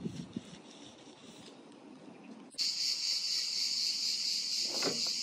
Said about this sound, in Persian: صدای جیرجیرک ها خیلی بلنده